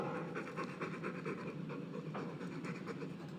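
A dog pants steadily in Dragon Age 2, quick rhythmic breaths close by over a low ambient game backdrop, with no talking.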